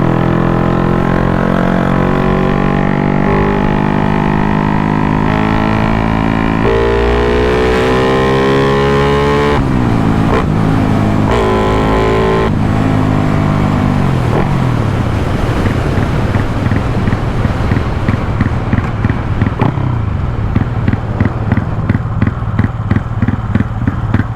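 A yellow Honda Wave motorcycle ridden for a test run in the evening, its small engine droning steadily and shifting pitch through gear changes, with wind rushing across the microphone throughout.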